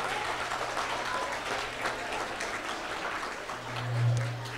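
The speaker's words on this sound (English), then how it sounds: "Give them another round of applause, please." Sustained audience applause at a school Arbor Day ceremony after a chorus performance, even and continuous with a low hum swelling toward the end.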